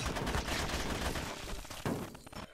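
Turrets in the game GRAV fire rapid, dense bursts of gunfire that stay loud and continuous. The shots thin slightly toward the end over a busy battle background.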